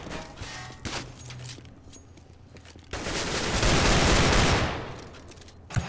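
AK rifle fire in CS:GO sounds as a dense, sustained burst of rapid shots lasting a few seconds. It follows quieter scattered game noise and ends with a final sharp crack.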